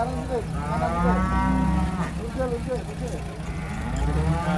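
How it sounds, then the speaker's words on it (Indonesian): Jumbo cattle moo repeatedly in long, drawn-out calls at a busy livestock market in Pasar Jelok, with the steady low rumble of an idling truck engine underneath. "kedatangan sapi jumbo lagi nih di Pasar Jelok"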